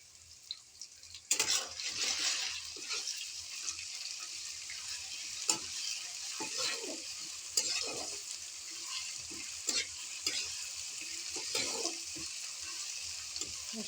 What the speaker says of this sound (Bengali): এবার আমি আদা থেতো, রসুন থেতো, লঙ্কা থেতো সব দিয়ে দেবো। একসঙ্গে এটা হতে থাকবে।